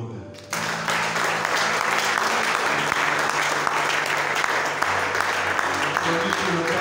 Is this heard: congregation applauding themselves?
yes